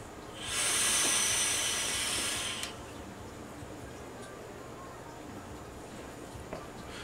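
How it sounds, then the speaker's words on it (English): A vape hit is taken from a mechanical mod with an RDA on a fully charged battery: one loud, close airy hiss lasts about two seconds, then cuts off and leaves quiet room background. "Another hit with a fully charged battery, a full cloud production."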